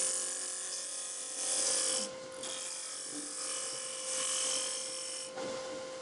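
A turning tool cuts a wood spindle spinning on a lathe, producing a continuous close whine with a steady tonal hum that swells and eases as the cut changes, with no speech.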